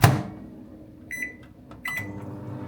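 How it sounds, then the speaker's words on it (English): Microwave oven running while it reheats chilli and rice, a steady low hum with a couple of short high tones and door or button clicks partway through, heard close with no voices. "Put them both in the microwave."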